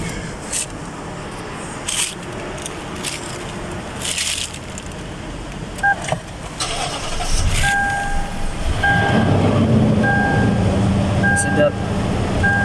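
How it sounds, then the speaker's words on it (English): A Lexus 460 car started up after repair work on its secondary air injection system, with clicks and handling noises before the engine catches and settles into a steady idle hum, while someone talks over it. "Now let's start the car."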